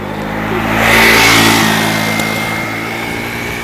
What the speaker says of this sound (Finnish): Näitä mopoilijoita täällä metsän siimeksessäkin menee.